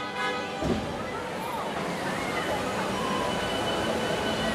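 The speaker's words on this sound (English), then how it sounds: "This tram is now ready to depart." Disneyland Resort parking tram starting to pull away, a steady low rumble and wash of wheel and motor noise that builds slightly, with a brief thump near the start and faint voices underneath.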